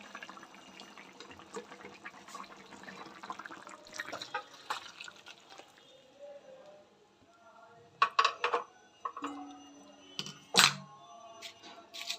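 Cooked bata fish curry with beans and potatoes being poured out of a pan, a soft liquid pour with scattered clinks and scrapes of the pan and utensil, louder near the end.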